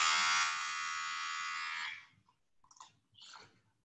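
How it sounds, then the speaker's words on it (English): An electric pet fur shaver buzzes and vibrates steadily for about two seconds at close range, then cuts off, followed by a few faint rustling and mouth noises. "So the back of the shaver will have some vibration as well."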